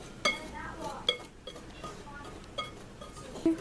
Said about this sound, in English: We are pretty much just going to mix all of our dry ingredients together and just get rid of any large lumps.